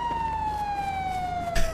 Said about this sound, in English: Let me turn off these sirens so y'all ain't hearing that shit.